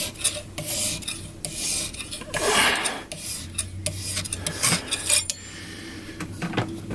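Knife blade drawn across the stone of a Lansky standard sharpening system held in a vise, giving repeated close scraping, rasping strokes in an uneven rhythm with brief pauses between passes.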